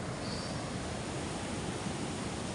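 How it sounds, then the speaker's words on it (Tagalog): Sea waves at a beach break one after another, a steady, dense roar of surf with whitewater, loud and continuous, with no talk over it. "Ayan na po ang dagat, talagang namumuti. Puting-puti. At saka sunod-sunod ang mga alon."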